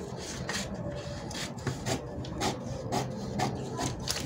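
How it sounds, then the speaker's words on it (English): Scissors cut off a dart from fabric while a corset top is being made, a quiet series of rhythmic crisp snips about twice a second over a soft rustling background, with no talk. "I'm extending it and then I'm cutting off my dart."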